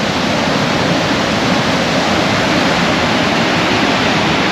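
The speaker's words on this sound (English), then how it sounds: "Another little waterfall. Pretty powerful though," A small but powerful waterfall near Godafoss, Akureyri, Iceland, roars as a dense, unbroken wash of water noise that stays loud and constant throughout, with no speech.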